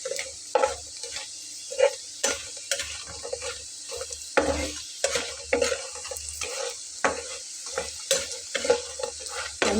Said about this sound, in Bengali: একটু হালকা করে ভেজে নিতে হবে